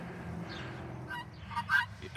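Backyard chickens in a coop in Indiana give a few faint, short squawks and honking clucks against a low background murmur, heard from a little distance.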